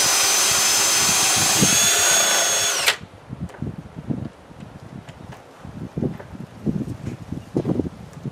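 A power drill with a half-inch flat bit bores into wood for a carpenter bee trap, running loud and steady for about three seconds before stopping; faint rustling and knocks follow.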